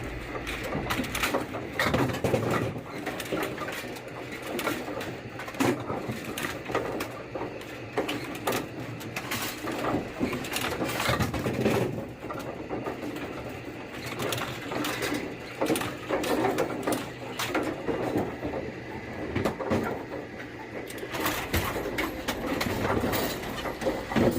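AMF 82-95 candlepin bowling pinsetter running behind the lanes, its gate scooping pins from the pinwheel onto the distributor, giving a steady loud mechanical clatter with dense irregular knocks and rattles throughout.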